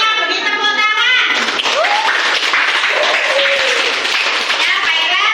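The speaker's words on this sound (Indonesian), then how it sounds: "Ayo semuanya beri tepuk tangan." Students in a classroom clap for classmates who came to the front, a loud, steady burst of group clapping mixed with children's voices and chatter throughout.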